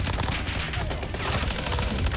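Rapid automatic gunfire with tracer rounds in the Warzone video game, a dense, steady stream of shots running continuously at close range with no pauses.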